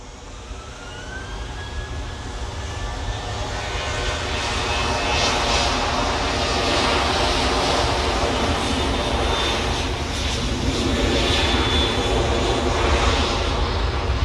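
An airliner departs from Manchester Airport, its jet engines building into a loud, steady roar that swells and holds for the whole stretch, heard from a spotting position outside.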